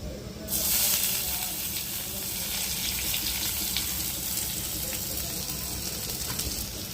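Chopped onions drop into a little hot oil for egg Maggi noodles, setting off a sudden, loud, steady sizzling hiss that carries on close to the pan, with faint talk underneath.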